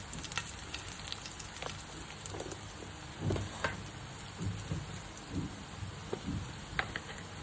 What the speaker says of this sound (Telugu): కొంచెం కరివేపాకు, 2 వెల్లుల్లి రెబ్బలు వేసి వేయించుకోవాలి.